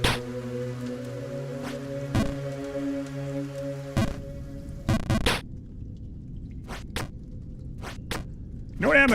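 Steady light rain patters in the Jump King video game, a soft continuous hiss with faint scattered drops, broken by occasional sharp clicks and short game sounds, while someone speaks over the start.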